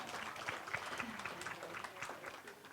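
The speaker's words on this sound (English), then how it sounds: "Round of applause for Beck" Scattered applause from a small crowd at presentations during the 2020 Loxton Mardi Gras, fairly faint and distant, with a few claps standing out before it thins.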